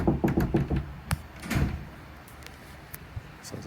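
Knocking on a house's back door in Tanzania: a quick series of about five firm raps, followed by a couple of heavier knocks and a thud, then quiet with faint scattered taps.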